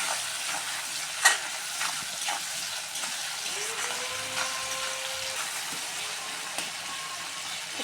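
Tomatoes with salt and green chilli frying in a pan for egg pasta, a continuous soft sizzle with occasional clicks from the stirring spoon.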